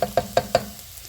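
Onion, ginger and garlic frying in a pan, almost golden brown, with four sharp, evenly spaced knocks or stirs against the pan over a low steady sizzle, then the sizzle carrying on alone.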